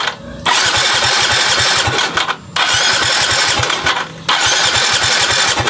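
Yamaha Mio scooter engine cranking and sputtering during a push start, a loud continuous rapid throbbing with two brief pauses, close and without talk.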